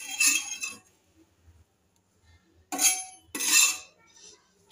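Fried spices being stirred into khichuri in a pan, with three bursts of a spoon scraping and clinking against the metal, one at the start and two close together near the end, separated by quiet pauses, close up and with no talking.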